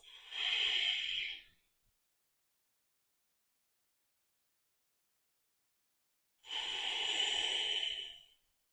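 Ujjayi breaths during yoga come as two long, close, airy, hissing exhalations through the throat, with a stretch of silence between them.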